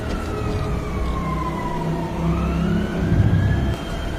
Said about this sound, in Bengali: সাথে সাথে পুলিশের গাড়ির সাইরেন বেজে ওঠে।